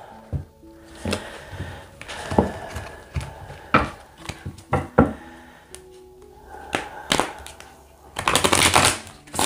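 A deck of tarot cards is cut and shuffled, giving scattered dry taps, flicks and knocks of card stock against a table, with a denser burst of riffling rustle near the end; no one talks.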